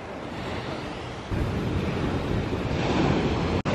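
Ocean waves wash onto a beach beside a small cave, a continuous surf roar swelling slightly partway through, mixed with wind buffeting the microphone.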